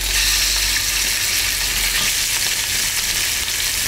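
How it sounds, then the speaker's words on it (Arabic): Cut lamb pieces with bone, including ribs and neck, hitting hot oil in a heated pot, a loud steady broadband sizzle that holds evenly throughout, close up and without any talking. "هننزل باللحمه اول ما الزيت يسخن والحله تسخن"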